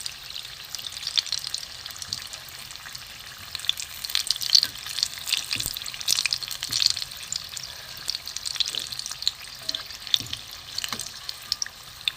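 Bean chops fry in hot oil, a steady close sizzle with crackling pops that keeps up without pause for about twelve seconds and has no talking over it.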